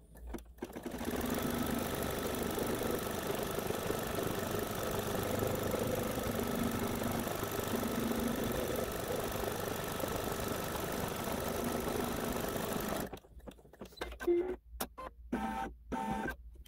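An embroidery machine stitches a placement line for the wall piece of a haunted house quilt block, a steady mechanical whirring hum that runs for about twelve seconds, then stops, leaving faint handling noises.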